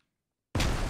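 A grenade blast in a tactical military shooter game: silence, then one sudden loud burst that carries through to the end.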